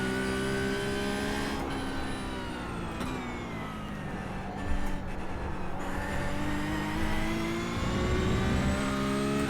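A race car engine in a sim racing game revs steadily and shifts gears several times, each change dropping the pitch before it climbs again, loud and close with no talk.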